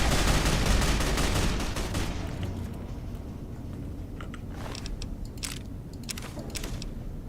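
Video-game gunfire in Fallout New Vegas during the Battle of the Hoover Dam: a dense, loud volley at first, thinning to scattered sharp shots and bursts afterward.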